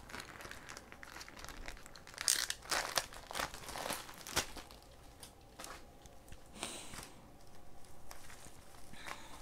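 Tightly wrapped book packages being opened with a blunt utility knife, giving continuous plastic crinkling and crunching with brief tearing rustles, close and moderately quiet, with no speech.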